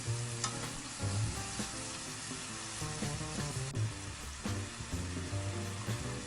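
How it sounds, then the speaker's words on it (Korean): Kimchi sizzles and crackles in a hot pan over medium heat while it is tossed and stirred, with rhythmic scraping and clattering throughout. "국물이 쫄아들어 양념에 배일 때까지 중불로 볶아주세요."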